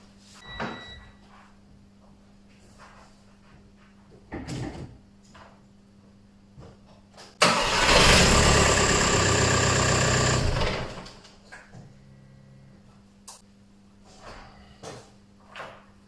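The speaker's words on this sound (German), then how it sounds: "Fahrzeug startet sauber." VAG TDI car engine with a freshly flashed EDC15/EDC16 ECU cranking and catching, a loud, sustained roar of about three seconds amid quiet workshop clicks and knocks.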